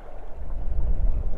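Wind gusts over a fishing pond where crucian carp and carp are caught on a float rig, a low rumbling buffet against the microphone mixed with soft lapping of small waves, brief and continuous.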